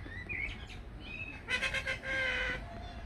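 Birds call at Birdland, a bird park in Bourton-on-the-Water, England, with shrill chirps and squawks in short clustered bursts that come close and fairly loud, with almost no talking.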